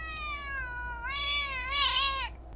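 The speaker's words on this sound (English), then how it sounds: "My kitten was just yelling at me." A kitten lets out one long, drawn-out meow, close and clear, rising and wavering before trailing off.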